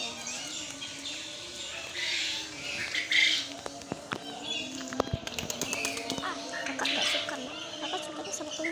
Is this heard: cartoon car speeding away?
no